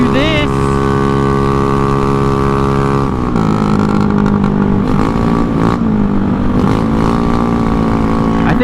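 A Honda Ruckus scooter engine running with no air filter, a loud, close droning idle whose pitch wavers and rises in short revs, with no talk over it.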